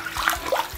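Scallions and ginger are rinsed in water in a home kitchen, giving a brief close splashing swish under a short spoken word.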